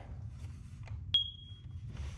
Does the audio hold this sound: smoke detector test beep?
yes